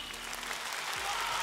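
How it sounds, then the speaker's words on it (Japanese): Audience applause at a Monster Strike Grand Prix 2024 Japan Championship final, a broad steady wash of clapping from a large crowd, even and sustained throughout. "じゃあ拍手にしようかね"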